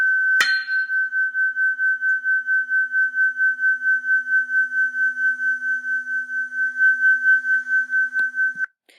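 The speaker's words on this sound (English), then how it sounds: "that high-pitched ringing noise you hear where it sounds like it's loud and then nothing, loud and then nothing" Two tuning forks at 250 and 238 Hz ring together after a sharp strike, producing a steady high tone that swells and fades in regular beats, about a dozen pulses over eight seconds before being cut off.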